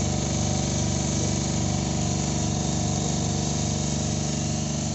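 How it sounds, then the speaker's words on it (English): An electric motor drives a gear oil pump on a fluid mechanics lab test rig, producing a steady, loud mechanical hum with a regular pulsing throb that continues unchanged throughout and has no voices. "Before that, you should not switch off the motor."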